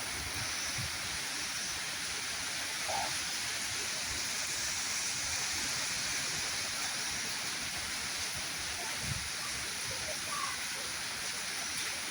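Heavy rain pours down with strong wind in a steady, roaring hiss that stays constant throughout, with a few faint thuds and a brief voice far in the background.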